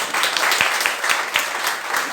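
A church congregation applauds together, dense and fairly loud clapping with some sharper individual claps standing out, continuing steadily without talk.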